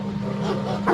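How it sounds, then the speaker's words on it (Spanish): A frightened, at times angry dog gives a short bark, with a brighter yelp rising at the end over a low steady background hum. "Podían escuchar a este perro que ladraba asustado, por momentos como enojado"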